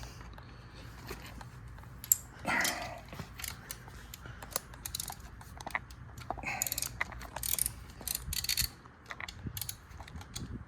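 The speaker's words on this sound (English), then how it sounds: "Okay, we're gonna remove the spark plug or replace it." A spark plug is worked out of a Kawasaki KLX 110 motorcycle with a ratchet: close, irregular metallic clicks, creaks and short ratcheting bursts, separated by brief pauses, with no talking.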